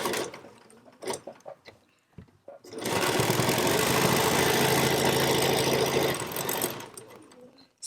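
After a few soft handling clicks, a sewing machine stitching face mask seams runs in one continuous close burst of about three seconds, then stops.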